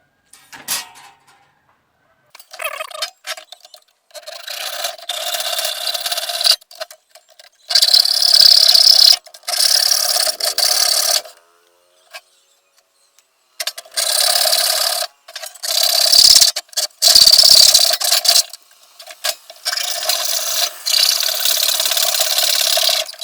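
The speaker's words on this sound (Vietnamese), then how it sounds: "Các bạn là dùng cái cưa sắt này, chúng ta sẽ cắt mạch ra." Rough, rasping strokes of a hacksaw cutting through a circuit board, loud and close, coming in long repeated bursts with short pauses between.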